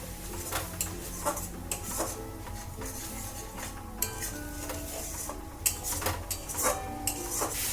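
A spoon scraping and clinking around a pan as spice masala is mixed with sour yogurt for a cauliflower curry, with rhythmic metallic stirring strokes over a soft sizzle, close and alone.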